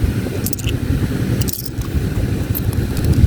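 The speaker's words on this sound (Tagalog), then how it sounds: "So, may mga barya dito." Coins from a wallet jingle and clink close by in a steady metallic rattle, with brighter chinks scattered across the jangling.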